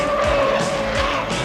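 A 1984 Ford Turbo Coupe with fuel injection accelerates hard on a test drive, its engine a loud, close, steady drone with a faint squeal of tires.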